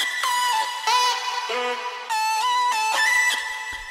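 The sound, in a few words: distorted vocal chops with volume automation in melodic bass track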